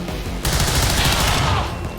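Turret gunfire in the XCOM 2 video game, a sudden loud sustained burst of rapid automatic shots that starts abruptly and runs steadily to the end, with no talking over it.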